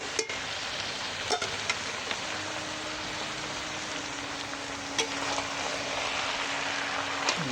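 Bottle gourd greens and peas are stirred and fried in spiced oil in a pot, giving a continuous crackling sizzle with occasional sharp ladle taps against the vessel.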